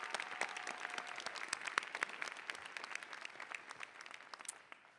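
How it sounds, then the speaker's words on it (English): Applause from a large audience at a business school commencement ceremony, steady dense clapping heard from a distance that gradually fades toward the end. "Let's give them another round of applause."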